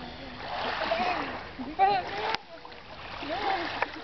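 People bathing in the 10-degree Norwegian Sea splash and slosh in the water, with voices calling and shouting over the continuous watery wash.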